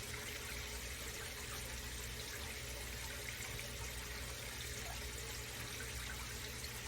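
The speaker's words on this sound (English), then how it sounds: "take our burger juice and just pour it right on in here" Burger juices trickle and pour into a pan during smash burger cooking, a steady, faint liquid dribble running continuously under a low background hiss with no talking.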